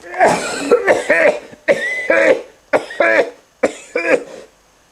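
Several loud, rough coughs close by, coming in short hacking bursts separated by brief pauses.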